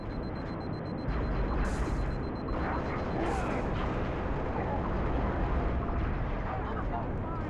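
Grenade explosions and gunfire in Halo Reach rumble as a continuous, heavy wash of blasts and shots against Covenant grunts, with sharper bursts standing out, under an excited voice.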